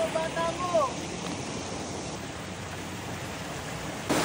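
A strong river current at an outdoor camp rushes as a loud, steady broadband roar throughout, close to the microphone, with brief voices near the start and end.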